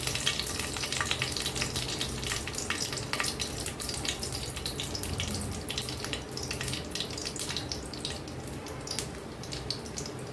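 Two dried red chillies sizzle and crackle in hot oil for a masoor dal, a steady dense frying hiss held close and loud throughout, with no voices.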